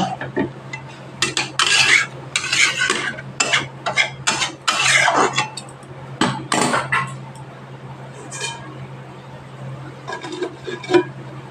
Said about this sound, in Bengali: দিয়ে ভালোভাবে জলের সাথে নাড়াচাড়া করে 5 মিনিট মতো ঢাকা দিয়ে রান্না করে নেব